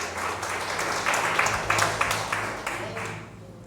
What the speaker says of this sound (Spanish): Dale fuerte el aplauso si se lo va a dar